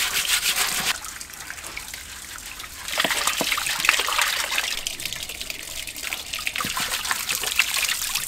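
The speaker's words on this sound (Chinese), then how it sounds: "猪头已经焯透水了，要把它捞出来清洗一下。" Running water splashes and trickles steadily over a cooked, blanched pig's head as it is rinsed and rubbed by hand, a close, continuous wet wash that swells louder partway through, with no talking.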